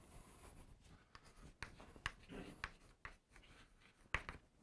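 Marker or chalk strokes on a board during a university math lecture as an equation is written out: soft scratchy scribbles broken by sharp taps and clicks at uneven intervals, close and clear, with no talking.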